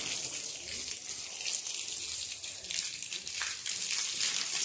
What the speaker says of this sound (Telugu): వాటర్ తక్కువ వస్తున్నట్టు నాకు.